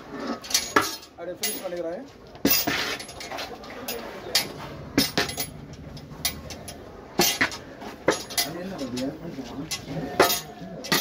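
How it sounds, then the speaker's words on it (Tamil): A large pot of mushroom rice is stirred with a metal utensil, giving repeated scraping clanks and knocks in uneven bursts while someone talks throughout. "பர்ஃபெக்டாக மிக்ஸ் பண்ணி மேலே இருக்கிற ரைஸ் அடியில் போகணும்"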